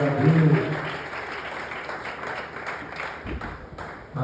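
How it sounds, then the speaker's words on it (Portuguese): A church congregation at a family service in Itatiba, São Paulo applauds, a dense sustained wash of clapping from a roomful of people that tapers off near the end. "Essa aplauso para você, pode melhorar, hein?"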